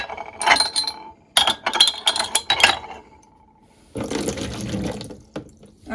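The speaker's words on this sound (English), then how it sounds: "out of the microwave, you just need to tip the water out" Water tipped out of a glass preserving jar just sterilised in a microwave, heard as splashing pours with glassy clinks and handling knocks, close and fairly loud, in two main bursts with a quieter pause between.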